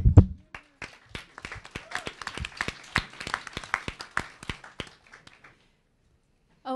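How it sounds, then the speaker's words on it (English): Scattered applause from a small audience at a talk, a few irregular claps that build briefly, then trail off into silence. "Round of applause."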